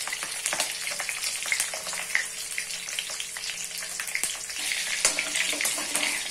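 Ten slit green chilies frying in hot oil for a Kathiyawadi sabji, giving a continuous close sizzle with scattered crackles and pops throughout.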